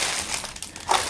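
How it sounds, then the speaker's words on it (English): A mail package is unwrapped, with close crinkling and crumpling of packing material in quick, uneven rustles, the loudest crunch coming near the end, and no talking. "let me get it out of the package"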